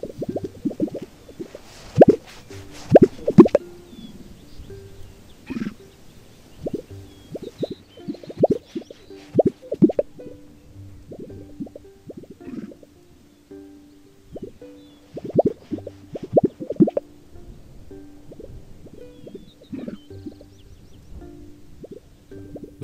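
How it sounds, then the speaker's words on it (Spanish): An animal's courtship call made by inflating the vocal sacs on its chest, heard as repeated deep, low plopping and popping pulses. The pulses come in irregular bursts with a faint hum between them, close and fairly loud with no voices. "realizan danzas y cantos con raros sonidos producidos al inflar sus sacos vocales de sus pechos"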